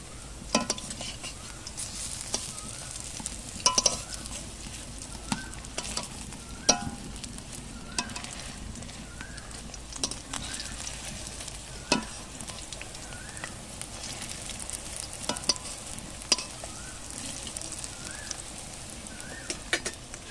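Steady sizzling of red lentil fritters frying in oil, with occasional scrapes and taps of a utensil against the pan and faint birdsong in the background.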